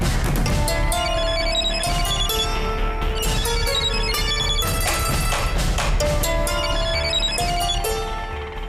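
A telephone rings in a home during a Tamil family drama, its tone repeating steadily and loud over layered music, with no talk.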